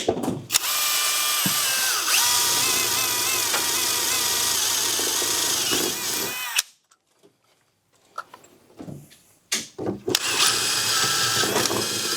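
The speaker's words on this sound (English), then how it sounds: "we can drill down through with a hole saw" A loud, sustained whine of a drill boring a hole saw down through a car floor runs for several seconds, stops for a moment of quiet clatter, then resumes.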